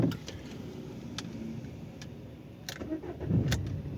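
A 2012 Renault Modus engine starts with a brief cranking burst, settles into a low idle, and is punctuated by a few sharp clicks and thumps near the car.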